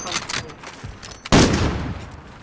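A burst of video game gunfire, busy crackling through the first second, then one loud sharp blast at about 1.3 s that rings out and decays slowly, with some speech-like sound mixed in early.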